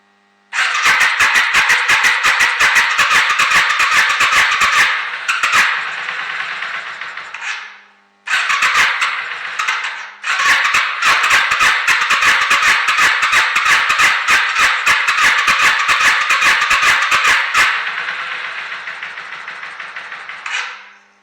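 A Yamaha Virago 535 motorcycle with side-mounted carburetors, one overflowing, cranks and catches, running in rough loud bursts that stop and restart, a close, ragged, sputtering engine note with brief gaps between attempts.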